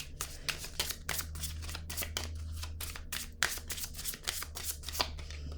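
Rapid riffle shuffling of playing cards close up, a steady run of crisp flapping bursts over a low background hum, no talking.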